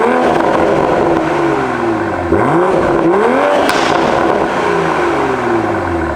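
Toyota MK5 Supra in sport mode with stock exhaust before a downpipe install, heard from behind the car as the engine blips and revs up and down several times over a steady loud idle.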